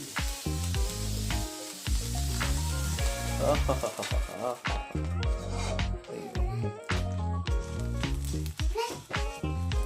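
A dish sizzles in a pan while it is stirred, a continuous frying hiss running under prominent music with faint background voices.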